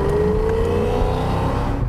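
A Chevrolet C8 Corvette in track mode rumbles loudly and close, its deep engine note holding steady with a rising tone as it runs, with no speech.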